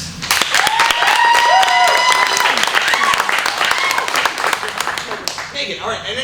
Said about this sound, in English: we're going to do this by a round of applause